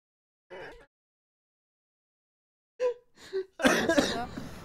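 A woman coughs several times in short separate bursts, close and fairly quiet, before a short stretch of talk-like sound at the end.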